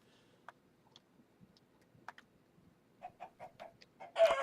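Chickens cluck in Minecraft during an Extreme UHC match, a scattered series of short, faint clucks that grow more frequent and end in a louder burst.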